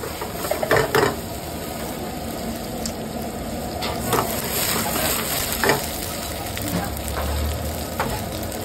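Garlic sizzles in hot oil for a cashew masala gravy, a steady frying hiss with crackles and a few brief stirring clatters, close and moderately loud.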